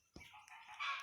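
Chickens in a farming video game, with clucking and honking fowl calls mixed into a continuous, brighter game soundscape that swells louder toward the end; no talking.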